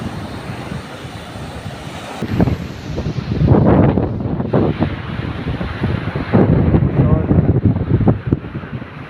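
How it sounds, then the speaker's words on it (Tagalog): Strong ocean waves break and wash along the shore at Trapiche in Oton, heavy surges rising and falling in repeated swells under constant gusting wind buffeting the microphone. "malakas yung alon ngayon."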